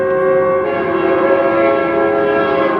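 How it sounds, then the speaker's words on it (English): A Union Pacific train sounds a loud, sustained horn chord, steady and close throughout, with no voices. "Pay attention to how the train gets louder"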